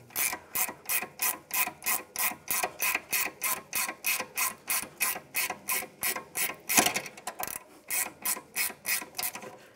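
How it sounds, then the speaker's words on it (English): A 17 mm ratchet wrench loosens the sway bar link nut on a 2009-2019 Ford Flex, giving a close, steady run of rapid clicking strokes with a brief pause near the end. "we'll be using a 17 ratchet wrench on the nut"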